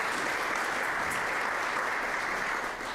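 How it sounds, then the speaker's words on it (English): A round of applause at a virtual Board of Education meeting for Ms. Siegel: steady, fairly soft clapping from a group that continues evenly for about three seconds, with no talking. "Let's give Ms. Siegel another round of applause."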